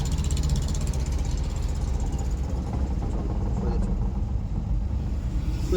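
A car engine rumbles steadily and loudly from inside the cabin during a driving lesson as the driver shifts into second gear, with a voice talking over the drone.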